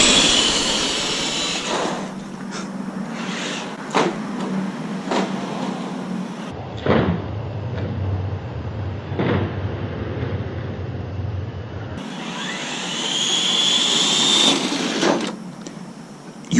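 A Traxxas TRX6 six-wheel RC truck fitted with a brushless motor runs fast in high gear outdoors, giving a continuous whining drive noise with several sharp knocks and clatters as it bounces over terrain.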